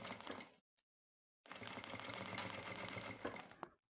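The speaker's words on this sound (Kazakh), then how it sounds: "Алдымен осы шетінен тігіп шығам, айналдырып, екінші қатар осы шетінен де тігетін боламын." A sewing machine runs a steady stitching burst along the edge of a tablecloth, close and alone, after a short opening run and a brief pause.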